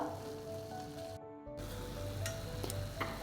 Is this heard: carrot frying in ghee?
yes